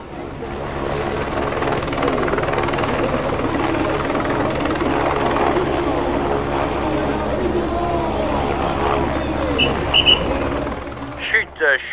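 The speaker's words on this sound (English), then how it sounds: "Fran, the noise of the helicopters, the thwacking blades we can hear is a sign that the riders are almost here." Helicopters hovering above a Vuelta a España 2018 mountain stage in the Pyrenees, a loud, continuous rotor thwacking that fills the air, with faint crowd noise toward the end.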